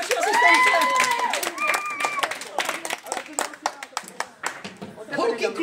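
Applause from a crowd at a seventh birthday party, with scattered claps and cheering under voices. It is loud at first, then thins into separate claps that fade out.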